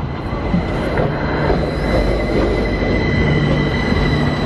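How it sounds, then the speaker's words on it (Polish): A street tram rolls past nearby, loud and continuous, with rumbling wheels and thin high squeals from the rails running throughout. "O, jedzie właśnie tramwaj i trzeba patrzeć."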